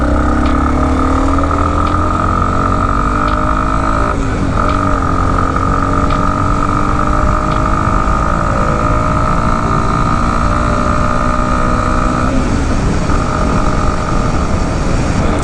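Yamaha XT250 motorcycle riding in fifth gear, its engine a steady, loud drone with rising and falling pitch and wind rush throughout, no talking.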